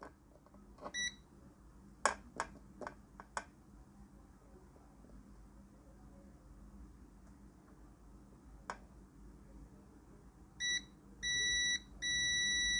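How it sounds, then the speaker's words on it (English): A multimeter's continuity buzzer beeps on a capacitor shorted to ground during phone repair: a few sharp clicks, then short high beeps and a longer steady tone, faint and close. "Can you hear the buzzer itself?"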